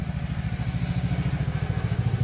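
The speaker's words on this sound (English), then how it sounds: "Tractor going by." A tractor passes close by outdoors, its low, pulsing engine chugging with a steady rhythmic throb and a faint clatter, loud and continuous with no talk over it.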